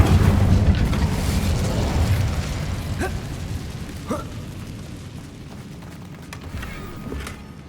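Incendio fire spell from Hogwarts Legacy, a heavy rumbling whoosh of flame at the start fading under game ambience, with a couple of short sharp pops later on, no voices.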